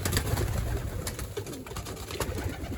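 Pigeons in a pigeon loft: soft, repeated throaty coos from several birds close by, with light rustling between the calls.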